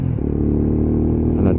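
Lexmoto ZSX-F 125cc motorcycle running through a roundabout, its engine giving a steady low harmonic drone with a loud exhaust, close and continuous, a brief rise in pitch near the end.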